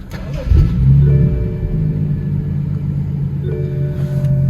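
A BMW F22 M235i engine starting: a sharp cranking burst catches into a loud revving flare, then settles into a steady, deep idle rumble close by.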